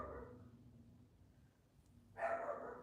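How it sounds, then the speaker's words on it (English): A dog barks once, loud and close, near the end, after a stretch of quiet low rumble. "Who you barking at?"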